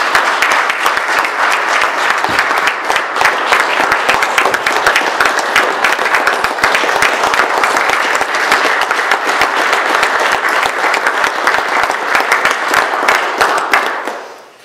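An audience at a Cherokee Village community meeting gives a big round of applause, dense, loud and continuous clapping from many hands that lasts about fourteen seconds before quickly fading out.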